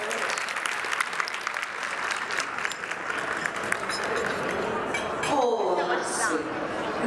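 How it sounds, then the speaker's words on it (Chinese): Audience applause fills a hall at a Chinese community New Year gala in Chicago, steady clapping throughout with a few clinks, and a voice speaking over it near the end. "掌声鼓励好了"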